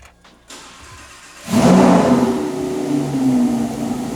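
A 2024 Lamborghini Huracan STO starts up after a couple of soft clicks: the engine catches with a loud burst, flares up and then settles into a strong, steady idle heard up close.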